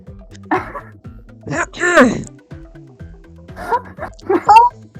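A person imitates a wolf howling at the moon, giving short rising and falling vocal howls and yips over steady background music, with other voiced sounds around them.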